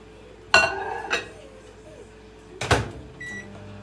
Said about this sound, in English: Microwave.